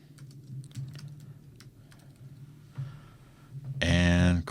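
Computer keyboard keys tapped in a short run of quiet clicks while a name is entered, over low background hum, ending with a brief louder burst of another sound.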